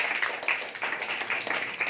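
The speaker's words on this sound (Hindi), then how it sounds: "इसके लिए एक ताली बजा दे" A classroom of students claps for a classmate, a steady patter of many hands at moderate loudness, continuing evenly throughout.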